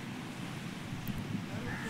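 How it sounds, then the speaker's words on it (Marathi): Surf washes steadily at Khavne beach under a soft breeze. The sound is faint and continuous, with no distinct breaking crashes. "हा आहे खवण्याचा समुद्र किनारा"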